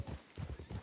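Horse hooves clip-clop in a quick, even rhythm in a western roleplay video game setting, close and moderately quiet with several distinct hoof strikes.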